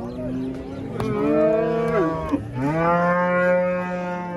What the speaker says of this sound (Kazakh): Бул жерде дагы жаш мал бар экен, кичине мал.